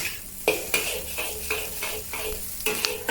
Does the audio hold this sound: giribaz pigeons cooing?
no